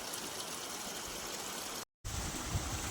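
Muddy water flows steadily into a farm field, giving a continuous broadband rushing wash, cut by a brief silent gap, with wind-driven turbulence; no one speaks.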